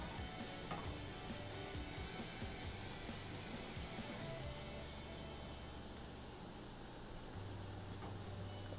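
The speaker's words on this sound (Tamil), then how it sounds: "நம்ம கலர் மாறுற வரைக்கும் தான் நம்ம வந்து இதை வறுக்கணும்" Raw plantain kola balls frying in hot oil, a steady close sizzle with soft bubbling that runs unbroken throughout.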